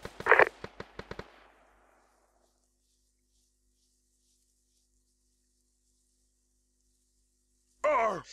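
A rapid burst of about six gunshots cracks out in ARMA 2, sharp and close, fading into a long echoing tail, followed by near silence and then a voice speaking at the end.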